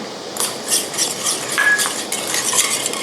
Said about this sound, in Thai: ละลายส่วนผสมนะคะให้เข้ากัน